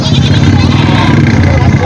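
Goats bleat amid the dense crowd noise of a busy rural goat market in Jawala, with people talking loudly all around throughout.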